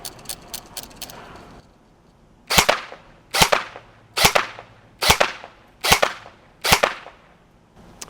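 A Helios Knight's Armament SR-16E Mod2 airsoft rifle fires six sharp, evenly spaced single shots, loud and close, following a stretch of softer mechanical rattling.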